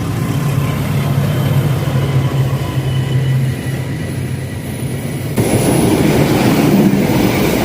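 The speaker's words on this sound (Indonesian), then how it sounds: "Kebetulan ada kereta api lewat." A train rumbles past on a long elevated railway bridge, a steady heavy roll with a low hum that grows louder and brighter toward the end.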